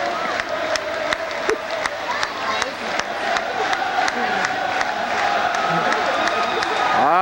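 A crowd at a family occasion cheers and claps, a dense continuous roar of voices with sharp scattered claps and rising excitement toward the end.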